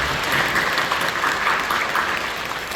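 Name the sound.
congregation applauding in church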